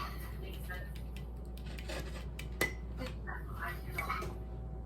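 A whisk stirring ingredients in a bowl, quiet irregular clinks and scrapes against the bowl over a low steady hum, with a few brighter taps.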